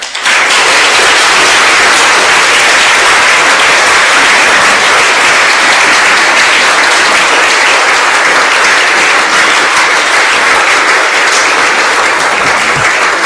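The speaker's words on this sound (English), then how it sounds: "Big applause, please." A conference audience applauds loudly and continuously, a thick, uniform wash of clapping from many hands that holds steady from start to finish.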